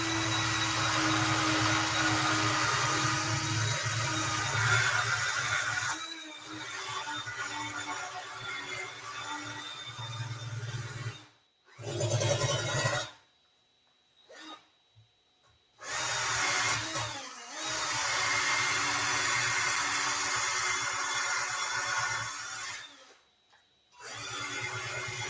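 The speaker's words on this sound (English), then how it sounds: "you could use a little wire wheel just like this. This one happens to be steel." A small steel wire wheel scrubs lightly across an aluminum tank, giving a steady whirring grind in several bursts, broken by short stops and silent gaps.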